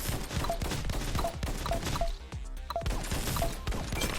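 Auto-fire shooting in the twin-stick roguelite video game X Invader: a dense, unbroken barrage of rapid gunshots with small tonal blips scattered through, loud and continuous.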